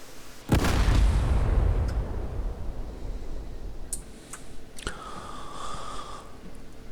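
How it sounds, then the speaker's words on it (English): A single loud, booming video game explosion among vehicles with a long rumbling decay, followed by a few smaller pops and a faint whine, no voices present. "and there will be lots of explosions."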